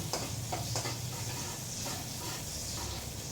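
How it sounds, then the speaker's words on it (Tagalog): Onion and garlic sautéing in a hot pan, a steady loud sizzle with a few stirring scrapes over it, no voices. "Igisa natin yung sibuyas, bawang."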